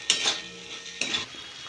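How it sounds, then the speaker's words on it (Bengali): Fried pointed gourds go into a spice paste in a pan with two quick clattering scrapes of a utensil against metal, close and fairly faint, with a light sizzle underneath. "এবার আমি ভাজিয়ে রাখা পটলগুলো এর মধ্যে দিয়ে দেবো"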